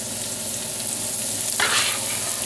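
Onions sautéing in a generous amount of olive oil in a pan give a steady, close sizzle, with a brighter burst of crackle partway through as they are stirred or settle into the hot oil.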